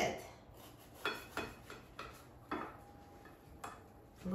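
A knife slicing through a soft, moist honey cake, giving a series of quiet, separate taps and scrapes roughly every half second, close and alone.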